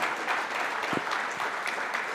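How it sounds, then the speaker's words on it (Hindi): An audience at an EVOKE 2026 talk event applauds with a continuous, even wash of clapping at moderate volume, with no voices over it. "जोर से तालियां की कमी नहीं होनी चाहिए"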